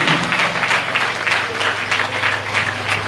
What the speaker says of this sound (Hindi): जोरदार तालियों के साथ परमेश्वर का धन्यवाद